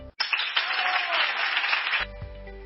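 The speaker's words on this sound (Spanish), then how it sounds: "a quienes desde aquí brindamos un merecido aplauso" Applause honoring students' parents, teachers and community authorities, a short even burst of clapping that cuts off abruptly into a low hum and faint voice.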